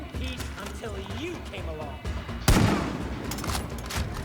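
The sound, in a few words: gunshots in the video game Far Cry 5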